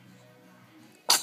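A baby girl gives a single sharp, close sneeze after a second of quiet, low room noise, the burst broad and loud, tailing off into a brief breathy sound.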